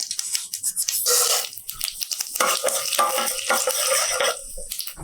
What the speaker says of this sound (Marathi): त्यामध्ये घालूया दोन चमचे तेल अर्धा चमचा मोहरी एक चमचा उडीद डाळ